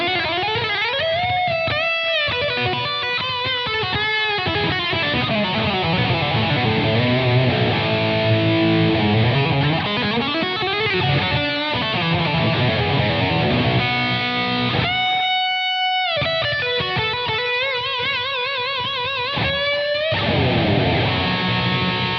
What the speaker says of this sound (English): let's whack on a load of gain, a bit of reverb and delay, and let's see what we can come up with